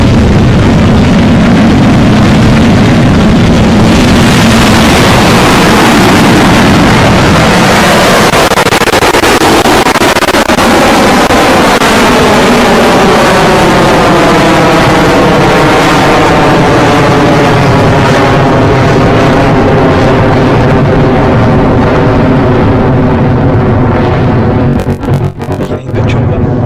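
A Rocket Lab rocket engine ignites and builds into a sustained, loud roar of liftoff that slowly fades with distance, a deep rumble under crackling broadband noise.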